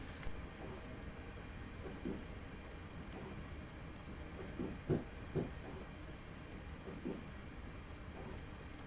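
A Class 321 electric train running at night on the Braintree to London route in Train Simulator 2015, a low steady rumble with faint rhythmic clunks of wheels over rail joints, fairly quiet and continuous.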